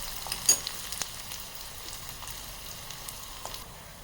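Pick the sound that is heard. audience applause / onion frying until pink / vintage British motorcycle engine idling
onion frying until pink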